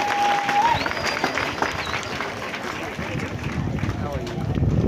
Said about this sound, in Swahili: Tuwapigieni makofi.